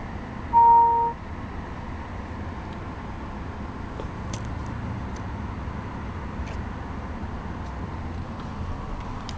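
A Fisker Karma hybrid car started by push button: a short electronic chime at the start, then a low, steady hum with faint ticks, quiet and without any engine roar.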